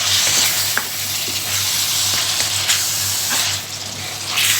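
Cholay masala roasting in a pan over medium heat, a loud continuous sizzle with intermittent scraping strokes of a spoon stirring it, close up and without speech.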